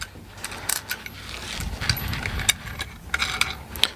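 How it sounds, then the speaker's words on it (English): Wrench tightening a bolt while assembling a Geeetech aluminum Prusa i3 3D printer, with close, scattered metallic clicks and scrapes over a soft rumble. "I'll tighten it up a little bit with a wrench."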